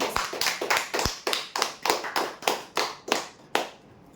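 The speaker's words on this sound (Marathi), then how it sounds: "जोरदार टाळ्या दे" About a dozen evenly spaced claps ring out one after another at a weekly prize draw, each a sharp hit with a short tail, and no voices over them.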